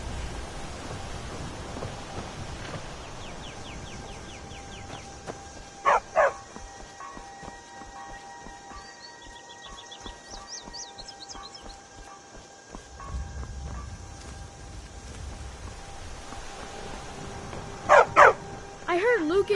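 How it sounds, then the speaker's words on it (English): A dog barks in Skyrim, giving two short pairs of sharp, fairly loud barks several seconds apart. Game ambience and voices sound around them. "Good dog."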